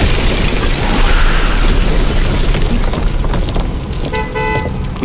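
A pickup truck smashes through a building's front entry, a loud, heavy crashing rumble that stays dense for several seconds, then thins into scattered rattling debris and a faint alarm-like tone near the end.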